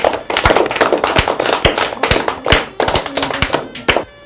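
A small group claps hands on a children's holiday television show, giving quick, loud, close claps in an uneven burst that lasts several seconds.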